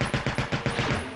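Rapid automatic gunfire from the video game Resistance: Burning Skies, about eight sharp loud shots in quick even succession, close and alone.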